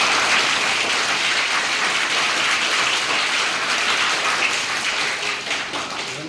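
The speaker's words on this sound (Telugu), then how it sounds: "ఒకసారి అందరూ చప్పట్లు కొట్టండి." An audience at a local news event in Gudur claps loudly and continuously for about six seconds, the dense applause easing off slightly toward the end.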